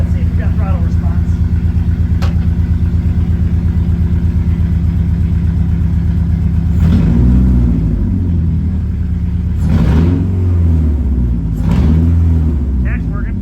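A freshly restored engine idles with a loud, lumpy, rhythmic rumble close by, then takes throttle in three short rev bursts around the middle and end while someone talks over it.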